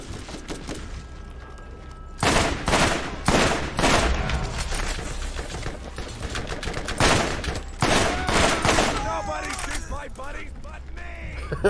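Rapid bursts of gunfire in the Borderlands video game, loud and repeated with short pauses between volleys, mixed with mechanical weapon sounds.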